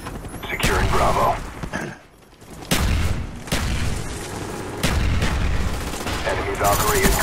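Rapid gunfire and booming blasts in a multiplayer shooter video game, loud and dense bursts with a short lull, mixed with game sounds and faint voice chat.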